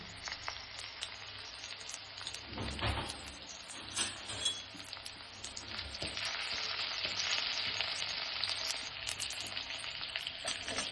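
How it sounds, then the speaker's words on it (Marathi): Crushed ginger and garlic sizzle in hot oil, a crackling fry that swells louder as they hit the pan, with occasional clinks of a utensil against the pan, close and with no voices. "ठेचून घेतलेलं आलं लसूण टाकतो."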